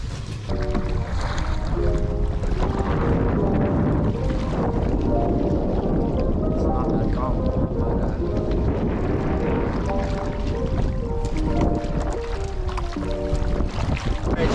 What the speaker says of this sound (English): Unfortunately, it's too windy.